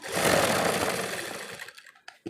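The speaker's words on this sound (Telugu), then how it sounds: "ఈ కట్ వర్క్ పక్క నుంచి వరుస రౌండ్ ఒక స్టిచ్ వేసేసేయండి" A sewing machine runs continuously, stitching a round line around cut work embroidery without a presser foot, the steady motor hum loud for most of the stretch before slowing and stopping into brief faint clicks.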